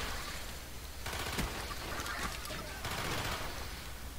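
Bursts of automatic gunfire in the video game Call of Duty: Black Ops, quiet and crackly, arriving in rapid volleys with short gaps between them.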